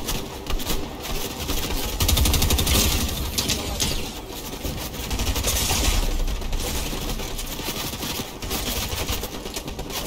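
Gunfire in Fortnite during a clash with bots outside the zone: rapid, dense bursts of shots and crackling fusillades that keep going under game sounds, loud and continuous.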